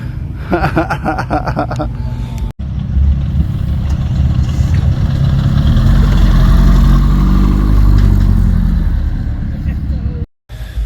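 A supercharged Ford Econoline truck engine idling loudly with a deep, lumpy rumble that swells steadily, while people talk and chuckle over it early on.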